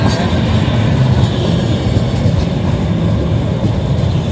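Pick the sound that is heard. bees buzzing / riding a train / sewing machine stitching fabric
riding a train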